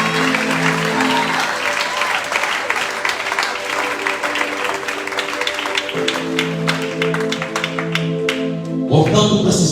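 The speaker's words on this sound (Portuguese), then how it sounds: "Aplaude para a glória do Senhor." Congregation clapping in an evangelical church service, sharp rhythmic claps over a sustained organ or keyboard chord, the clapping steady and fairly loud before a brief burst of voices at the end.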